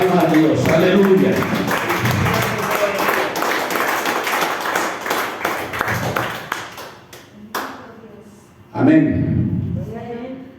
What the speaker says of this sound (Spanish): Denle su ofrenda de palmas a Dios.